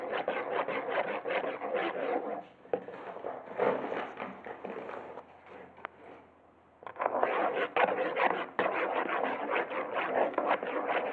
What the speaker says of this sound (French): je vais ajouter la farine en mélangeant avec une cuillère